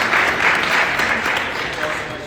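A student audience at a university executive election speakout applauds steadily, a dense wash of clapping that stays fairly loud throughout before easing slightly at the end.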